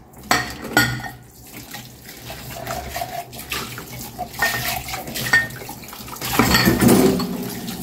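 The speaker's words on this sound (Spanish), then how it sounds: "Se enjuaga fácilmente la espuma, como pueden ver" Dishes being rinsed of foam under a running kitchen tap: steady splashing water with clinks of plates and cutlery being handled close by, loudest toward the end, without speech.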